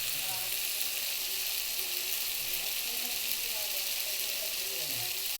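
Food frying in oil as the oil starts to separate, giving a steady, dense sizzle with crackling that stays level and close throughout.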